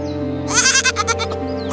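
A cartoon goat, a milking nanny goat standing at a doorway, gives a single loud, quavering bleat lasting about a second over a steady background music bed, with no talking.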